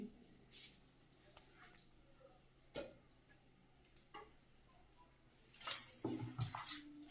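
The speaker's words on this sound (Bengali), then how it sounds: "কেটে কুটে সব ধুয়ে নিচ্ছি" Cut vegetables being washed in a home kitchen, with scattered faint splashes and knocks of pieces and a bowl, growing louder and busier toward the end, no talking.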